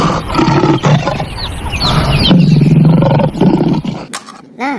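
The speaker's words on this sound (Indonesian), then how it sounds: "Seekor singa." A lion roars loudly and close up in a long, rumbling stretch, followed by a short whooshing effect at the end.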